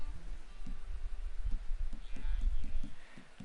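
Horse hooves clip-clop in Red Dead Online, a steady run of evenly spaced hoof beats over a continuous game ambience, with faint talk in the background.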